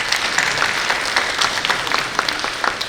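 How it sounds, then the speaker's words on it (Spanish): An audience gives a speaker a round of applause at an agricultural ministry panel, steady clapping filling the room for about three seconds with no talk over it. "Un fuerte aplauso."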